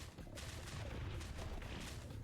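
A grenade explodes in the zombie survival game LDoE: Survival. The low, rumbling boom is faint and distant, with a dense crackling burst and scattered echoing pops across a couple of seconds.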